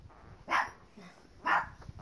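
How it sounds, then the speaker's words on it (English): Dog barking from a hidden spot: two sharp, medium-loud barks about a second apart, fairly close, with quiet background between them. "Hiding and barking, that's what I find funny."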